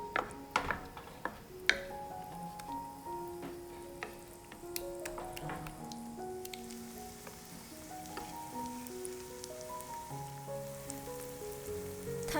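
Korean beef pancake batter slow-frying over low heat in a large 14-inch pan, a soft, even sizzle with scattered faint pops and light clicks, fairly quiet and with no voices.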